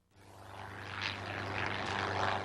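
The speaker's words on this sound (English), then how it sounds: "Passers-by watched amazed as a Cessna light aircraft landed in Red Square." A Cessna light aircraft coming in to land in Red Square, Moscow, its propeller engine droning steadily and growing slightly louder, moderately distant.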